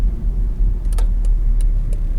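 A car drives along a road and turns left, its steady low engine rumble and tyre noise continuous and close throughout, with a few faint high clicks.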